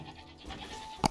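A goat in the Age of Empires 2 Definitive Edition game lets out a short, nasal bleat, preceded by faint game ambience.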